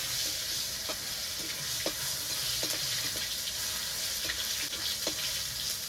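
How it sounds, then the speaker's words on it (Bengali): Tomato frying in a pan with salt, stirred now and then: a steady close sizzle runs throughout, broken by several brief scraping clicks of a spoon against the pan. "এবার টমেটোটাকে একটু নেড়ে চেড়ে ভেজে নেব"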